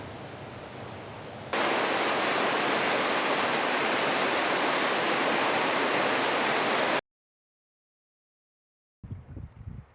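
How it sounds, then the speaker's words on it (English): Steady rushing roar of a mountain waterfall, loud and close, cutting off abruptly into silence before faint noise returns. "I just stumbled upon a waterfall I can swim in"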